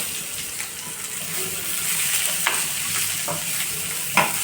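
Onion, carrots and beans sauté in a pan for pulao, making a loud continuous hiss with occasional scrapes and taps of a spoon stirring the vegetables, and nobody speaks.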